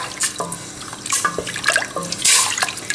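Half a litre of water poured into a cooking pot of tomato-sauced meat and pasta, a steady close splashing and gurgling stream with bright spattering bursts, loud and continuous for about three seconds.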